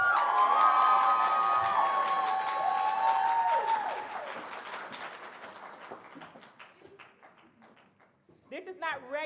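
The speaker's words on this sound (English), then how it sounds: "Please give Dr. Miriam Kadeba a round of applause." Audience applause and cheering at a Kente stole donning ceremony, loud at first with whoops and shouts over the clapping, then thinning and fading before a few voices return at the end.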